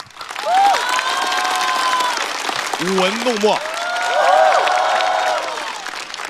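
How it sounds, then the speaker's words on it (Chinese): A stand-up comedy show audience claps and cheers in sustained applause, while a host's voice speaks over the clapping throughout. "掌声送给我们优秀的脱口秀演员"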